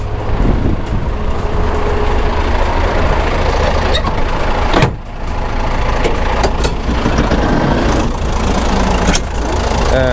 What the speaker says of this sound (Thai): เครื่องยนต์ยังเดินเบาแบบเงียบๆอยู่เลย